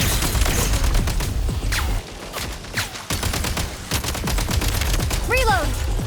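Gunfire in the video game Genshin Impact, set in a quiet snowy region: a dense, continuous volley of sharp shots lasting the whole stretch, with a short lull midway and rising whistling effects near the end.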